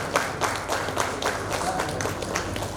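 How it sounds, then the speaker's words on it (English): An award ceremony audience in a hotel hall claps steadily as a delegate is honored, a continuous even patter of applause with no talk over it. "Keep the applause coming, everyone."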